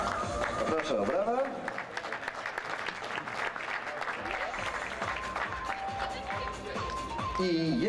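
An audience at a sports gala in Gmina Lesznowola applauds steadily for several seconds, with a crowd murmur and a voice speaking over the clapping.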